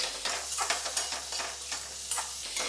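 Jeera aloo, potatoes with cumin, spices and a little sugar, frying in a pan and being stirred: a steady close sizzle broken by repeated scraping strokes of the spoon.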